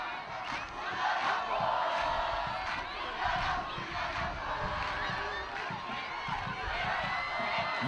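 Langeberg supporters chant together at a school rugby derby against Robertson High, a loud, continuous mass of crowd voices with rhythmic surges and shouts, a commentator's voice faintly mixed in.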